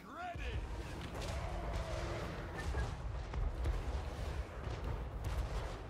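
Repeated booming dwarf cannon shots and crashing impacts from a video game battle, dense and overlapping, with faint voices mixed in.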